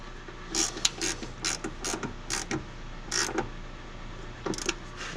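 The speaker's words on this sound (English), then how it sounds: "we're pretty much going to take the ratchet, which is a 10mm, and tighten it on down" A 10mm ratchet tightens a bolt on a Ford Mustang, giving a run of close, sharp clicking bursts in an irregular rhythm, with brief pauses between strokes.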